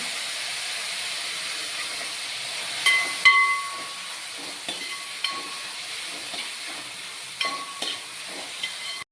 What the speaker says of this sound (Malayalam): പിന്നെ നമ്മൾ കരിവേപ്പില ഇടുകയാണ്